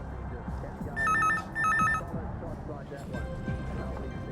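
A telephone line rings after a call to a bar, giving two short trilling double rings under a background murmur of voices.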